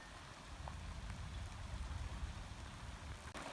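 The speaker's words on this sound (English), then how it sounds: "I can hear the rain on the roof" Light rain patters steadily on a carport roof, a soft, even hiss of drops with no voices, faint and continuous.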